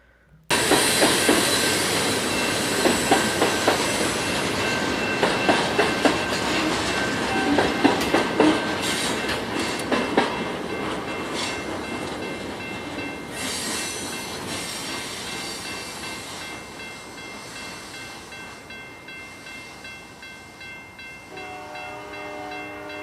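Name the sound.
CN freight train passing, horn at distant crossing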